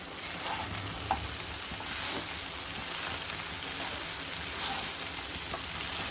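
Mutton pieces fry in a pan, Rayalaseema style, with a continuous crackling sizzle that stays even and fairly close, broken by a few small pops and faint stirring knocks, no talking.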